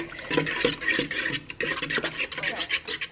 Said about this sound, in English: And then I'm going to go through, just mix up everything.